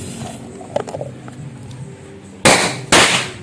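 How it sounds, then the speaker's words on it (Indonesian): Two sharp bangs of a mini matchstick firecracker going off inside a coffee glass, close and loud, the second following half a second after the first, over a faint rustling background. "kita coba lagi yang petasan korek mini."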